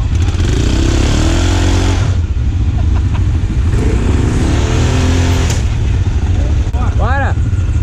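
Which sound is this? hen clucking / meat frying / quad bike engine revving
quad bike engine revving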